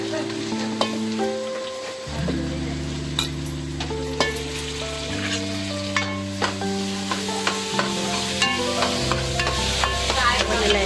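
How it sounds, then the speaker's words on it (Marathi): Tomatoes hit sizzling browned onions in a pan for pav bhaji, a steady frying hiss with frequent sharp clicks and scrapes of stirring, while music plays underneath. "आता आपण टोमॅटो टाकू."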